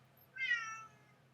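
A cat gives a single drawn-out meow, moderately close and clear, over a quiet low background hum with no talking.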